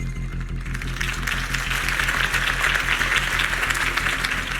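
Crowd applause from a video game builds and continues steadily, a dense wash of clapping over a low electronic hum.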